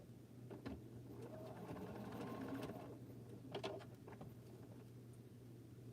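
A sewing machine hums steadily as it stitches a jelly roll quilt block, with a constant motor tone and rapid needle patter, close and continuous, and light fabric handling sounds on top.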